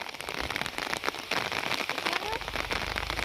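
Steady rain patters densely on a nearby surface, with scattered louder drops and crackles throughout.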